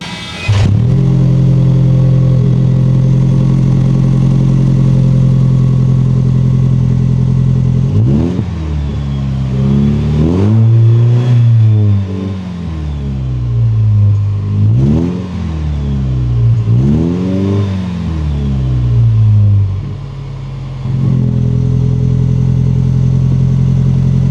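A Toyota Land Cruiser 250 SUV's engine idles through its stock exhaust with a deep drone, then is revved several times in swelling bursts before settling back to a steady idle.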